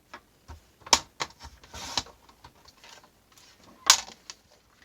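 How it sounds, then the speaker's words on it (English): Scissors or a paper trimmer cut paper for an 8 by 10 scrapbook album page, with two crisp snips standing out among soft rustling, tapping and handling noises close by. "So I'm going to cut this at 10"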